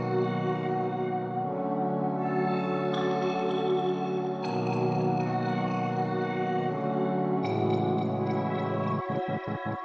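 Sustained synth pad chords from an FL Studio jungle track, shifting through several chord changes with layered harmonics, ending with a few short rhythmic stabs; steady, fairly loud, no voices.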